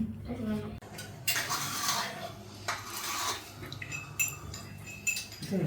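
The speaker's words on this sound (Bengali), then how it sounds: "নতুন কাপে চা ঢেলে খাওয়ায়" Tea being made and poured into new cups at home: close clinks of cups and utensils with stirring and scraping over a low steady hum, with soft voices in the background.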